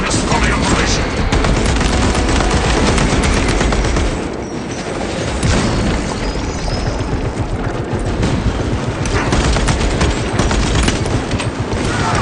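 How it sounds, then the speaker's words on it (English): Sustained automatic weapon fire from the tech marine in the PC game Space Marine, a dense, loud, continuous rattle of shots with booms and effects, dipping briefly midway before resuming. "Automatic weaponry engaged."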